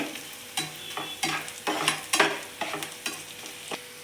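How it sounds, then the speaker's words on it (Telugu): Onions fry in a pan for a methi curry, with steady soft sizzling under repeated scraping strokes of a spatula stirring at an uneven rhythm, close and fairly quiet. "ఉల్లిపాయ అంతా వేగిపోయింది కదా"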